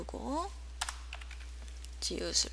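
Keys pressed on a computer keyboard, a few quick soft clicks between brief bits of speech over a steady low hum.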